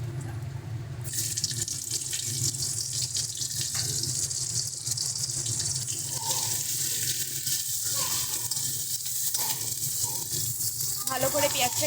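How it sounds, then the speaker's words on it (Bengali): Onion frying in a pan makes a continuous close sizzle, with running-water-like hiss layered over it and a few light clinks toward the end. "ভালো করে পেঁয়াজটাকে ভেজে নেব।"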